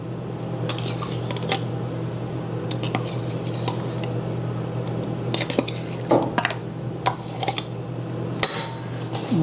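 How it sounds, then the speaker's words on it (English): Homemade yogurt scooped from a cup into a bowl with a spoon, giving scattered light clinks and scrapes of utensil on dishware over a steady low hum, close and moderately loud with no talking. "we're going to scoop it out into a bowl"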